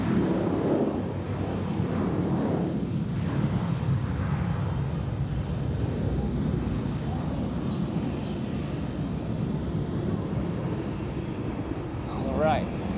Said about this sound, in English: we just had an Austrian Embraer departing